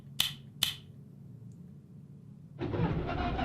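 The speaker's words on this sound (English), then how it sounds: "start our little engine up." A small train engine in the Derail Valley video game starts up: two sharp clicks come first, then after a pause a loud, steady rumbling roar kicks in close by and keeps running.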